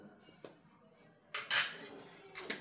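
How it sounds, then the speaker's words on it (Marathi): A spoon stirring spices and asafoetida in a bowl while cooking, a few soft clinks followed by a short scraping burst, close but quiet, with no talk. "आता मिक्स करून घेऊया।"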